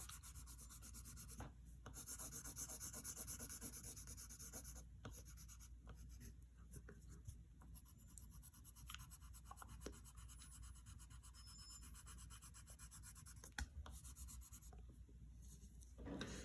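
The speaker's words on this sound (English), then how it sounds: "Always use the side of your pencil in shading" A pencil held on its side shades across paper in close, quiet, continuous scratchy strokes, with brief pauses between passes and no talking.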